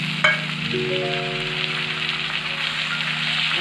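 Washed dried shrimp (sukat) sautéed in hot oil with browned onion and tomato gives a steady, close sizzle and crackle, with a faint ringing tone underneath and no talking.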